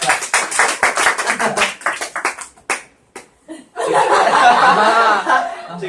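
A small audience claps in a quick, fairly dense burst that thins out to a few scattered claps, followed by a voice speaking with some chuckling, all close and loud.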